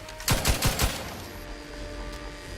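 Gunfire in the video game The Outer Worlds 2, a quick burst of about four close, sharp shots in a row, followed by a lingering low hum of the game's ambience.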